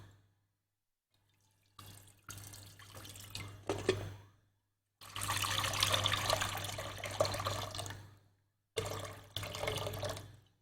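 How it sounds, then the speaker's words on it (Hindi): Water is poured from a cup into a saucepan in three separate bursts of splashing and trickling, close by, with a steady low hum underneath and short silences between pours. "तीन कप जितना पानी मैंने इसमें शामिल कर दिया।"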